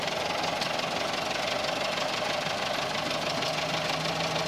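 An old car engine idles steadily with a loud, close, knocking rumble that holds evenly throughout, with no voices over it.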